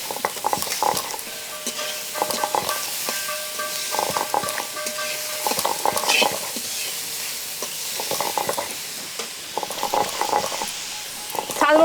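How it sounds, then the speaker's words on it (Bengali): Grated carrot, grated cauliflower and chopped coriander are stirred and fried in a pan for prawn momo filling, with repeated rhythmic scraping strokes over a soft sizzle, close and fairly loud, with no speech. "একটু নেড়ে চেড়ে একটু ভাজা করে নেব।"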